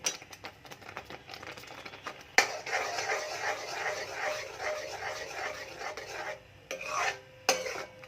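A spoon scrapes and stirs bottle gourd kalakand mixture roasting in a pan over a low flame, making repeated rasping strokes in a steady rhythm, close and fairly soft, with brief pauses.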